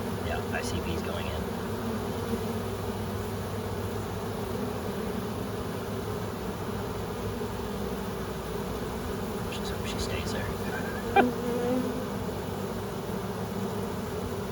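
A swarm of honey bees hums continuously while crawling into their hive, the close, even drone broken only by a brief faint click near the end.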